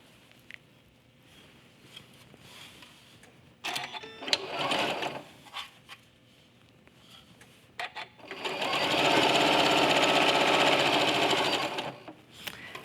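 Home sewing machine chain piecing quilt fabric: short bursts of stitching, then a long steady run of rapid needle chatter close by.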